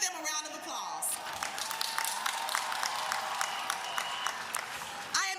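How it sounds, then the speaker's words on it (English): A crowd applauds at the Eagles Landing High School 2024 commencement ceremony; many sharp, distinct claps blend into steady, moderately loud applause that fades briefly near the end. "Give them a round of applause."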